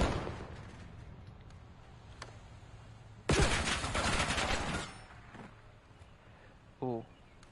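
Gunfire in the video game Black Ops 7 during a competitive match, a dense loud burst of rapid shots lasting over a second, with a few scattered single shots around it under steady commentator talk.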